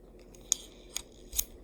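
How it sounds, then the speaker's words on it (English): Swiss Army knife blade drawn through a kitchen knife sharpener, making three short, sharp scraping strokes at a steady pace, close but fairly quiet against a hushed background. "How to Sharpen Your Swiss Army Knife with a Kitchen Knife Sharpener"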